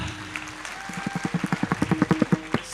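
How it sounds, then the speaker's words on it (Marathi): An audience at a kirtan ceremony claps in unison with an even, rhythmic beat that builds to sharper, louder claps. Faint sustained musical tones run underneath. "टाळ्यांचा कडकडाट."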